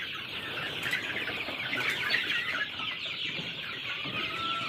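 Sonali Classic chickens, 37 days old, cluck and chatter steadily as a flock, with some wing flapping among a dense, fairly close chorus and no talk.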